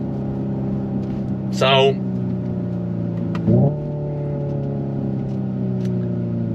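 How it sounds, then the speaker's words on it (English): The 2025 Hyundai Ioniq 5 N's simulated engine sound drones steadily in first gear as an even, layered synthetic hum. Two short bursts of speech break in over it. "We'll simulate it first gear and just let it rev out, so to speak, and see what it does."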